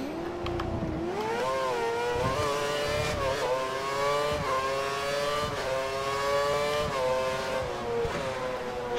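Formula 1 car engine in the F1 2013 racing game, held at full throttle through a corner at the Korea circuit, a loud continuous high-pitched whine that climbs steadily with small dips as it shifts, with no voices.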